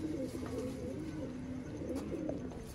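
A pigeon from a fancier's loft, a master-bred bird, coos in a low steady murmur close by against a soft background hum.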